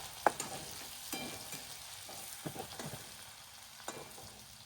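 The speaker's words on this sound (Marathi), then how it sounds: "कढईमध्ये तेल तापवले आणि त्यामध्ये कढीपत्ता आणि लसूण वगैरे टाकून घेतलाय." Curry leaves and garlic sizzling in hot oil in a wok, a quiet steady frying hiss broken by a few soft stirring clatters, with no talk.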